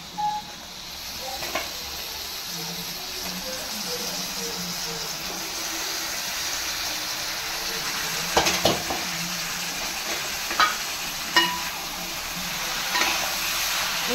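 Chicken fries in a pan for chicken biryani with a steady, close, hissing sizzle throughout, broken by a few sharp clinks of a utensil against the pan.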